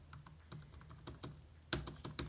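Several quiet keys click in quick succession on a Dell Latitude E7240 laptop keyboard, close and faint, with a couple of slightly louder presses near the end.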